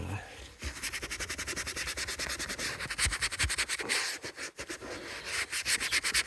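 A brush scrubs rapidly back and forth across the sole of a nubuck Ecco shoe, making a dense rhythmic scratchy rubbing that runs steadily and close throughout.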